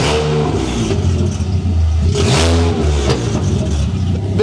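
A custom-built family car engine revs hard in a loud, sustained blast, the pitch climbing and falling through several aggressive throttle sweeps at close range.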